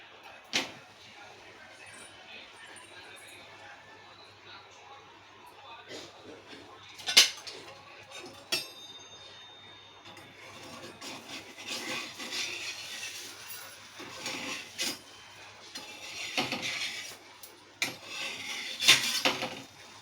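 A pan set down on a stovetop while making kobari polelu, a few sharp metallic clinks and knocks of cookware standing out over low room noise, with quiet talk in the background.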